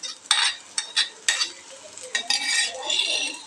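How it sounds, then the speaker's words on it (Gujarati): Soaked sago pearls stirred into a spice mix in a pan for sweet-and-sour sabudana khichdi: a handful of close, scraping spoon strokes in irregular bursts with a light sizzle underneath, and no voices. "બધા સાબુદાણા મસાલામાં મિક્સ કરી દઈએ।"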